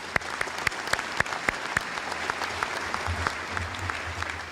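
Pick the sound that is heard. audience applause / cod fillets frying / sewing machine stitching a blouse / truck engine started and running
audience applause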